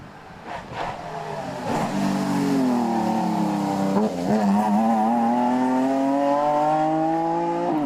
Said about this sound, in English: There's a very distinctive sound of the BMW coming.